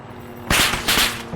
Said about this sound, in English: God, I love this machine gun.